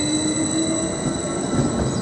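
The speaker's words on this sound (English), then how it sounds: "the 1500 service to London Liverpool Street, word by 745004, is now departing from platform 1" Class 745 electric unit 745004 pulls out of platform 1 at Norwich station on the 1500 service to London Liverpool Street, giving a steady close rumble of wheels on rail with a sustained whine and no voices.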